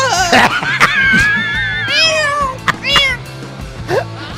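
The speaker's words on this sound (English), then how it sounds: "Stepped on a cat." A cat yowls and meows sharply several times after being stepped on. The cries are loud, wavering and close, spaced irregularly across a few seconds, with faint laughter mixed in.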